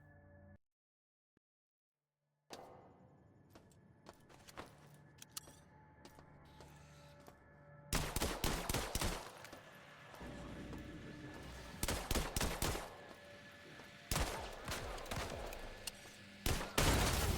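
Gunfire in the System Shock Remake video game: after a short silence, scattered sharp shots give way to loud rapid bursts of automatic fire that repeat in clusters.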